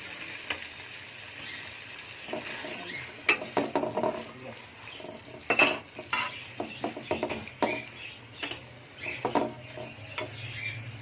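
Chopped carrots tumble into a hot pan for chicken fried rice, giving soft scattered clatters and scraping stirs over a faint sizzle, with no voices.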